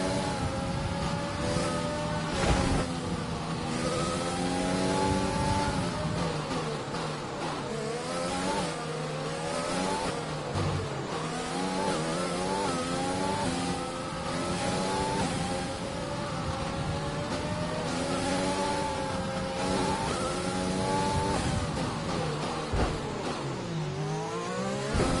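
A Formula 1 race car engine in the F1 2020 racing game revs and shifts repeatedly, rising and falling in pitch through gear changes as a loud, close, unbroken scream with no talking.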